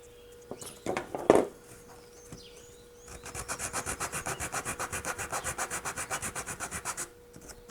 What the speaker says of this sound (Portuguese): E estou fazendo a retífica aqui para ter uma oclusão mais simétrica